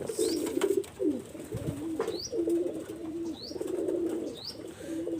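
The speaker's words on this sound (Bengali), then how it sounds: "এটা নতুন নিউ অ্যাডাল কবুতর" Teddy golden Kamagar pigeons coo in steady, low, rolling phrases that repeat almost without pause, close by, with a few faint higher chirps from other birds in the background.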